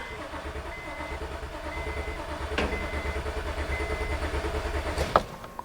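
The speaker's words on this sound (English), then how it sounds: "Now I'm going to crank the engine." A Honda Odyssey V6 that loses power and shakes cranks on the starter, giving a fast, even, rhythmic chugging pulse that holds steady for several seconds, then ends in a sharp click.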